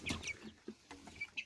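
Young roosters and hens on a farm make a few short, close clucks and calls scattered over a second and a half, fairly faint, with no talk.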